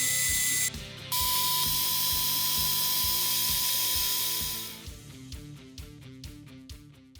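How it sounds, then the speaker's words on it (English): A milling machine cuts a slot in 4140 steel for a shop-made fly cutter, a loud sustained machining whine with a steady rhythmic chatter that stops briefly, resumes, then fades into quieter clattering toward the end. "I'll rush through another with the vise trammed in and cut the slot on the right side"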